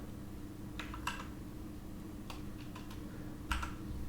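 Keystrokes on a computer keyboard partly blocked by a microphone, heard as sparse clusters of quiet clicks and taps over a steady low hum, with a slightly louder burst near the end.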